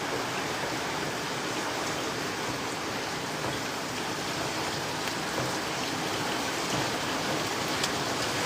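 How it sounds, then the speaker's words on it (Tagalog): Heavy rain in Singapore pours down steadily, a dense continuous hiss of drops on surfaces that stays loud and even throughout, with no voices. "Nandito ako ngayon sa Singapore, ang lakas ng ulan."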